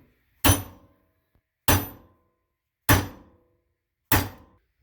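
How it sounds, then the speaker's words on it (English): A hammer striking a punch on a defective Konig tire chain link for a Jeep, four sharp heavy metallic blows evenly spaced about a second apart, close and loud with quick decays and silence between. "Hit it with the hammer."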